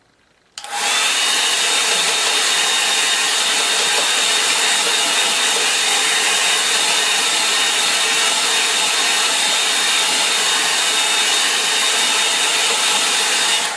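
Hair dryer blowing steadily over a wet watercolour painting, a loud continuous roar that switches on abruptly and runs unbroken, with no talking.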